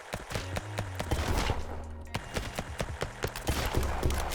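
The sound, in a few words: custom SMG firing in video game Flashes of Chaos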